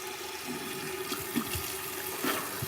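Water runs steadily from a tap while something is rinsed, a close, continuous gush with a few splashy surges and no talking.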